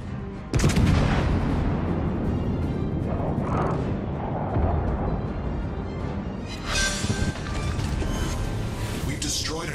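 Naval gunfire from the battleship Mutsu in a video game: a heavy boom opens early, then rumbling reports and explosions roll on under radio-style voice chatter.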